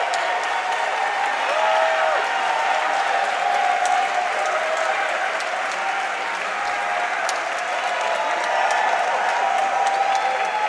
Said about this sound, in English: Standing ovation indeed from the crowd as they welcome AD FINEM